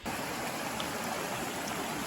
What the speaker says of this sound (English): Well, this is the most interesting river to ford yet.